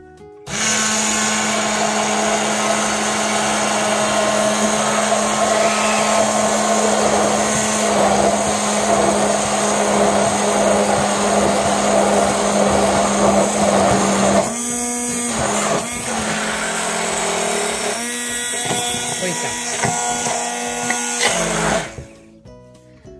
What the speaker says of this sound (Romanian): După care voi mă apuc să îl mixez cu mixerul vertical.